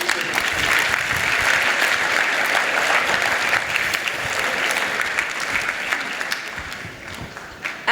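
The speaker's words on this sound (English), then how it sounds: "So please, another big round of applause, please." Sustained, loud audience applause fills a hall at a multicultural apprenticeship awards ceremony, dense and steady throughout before thinning slightly near the end.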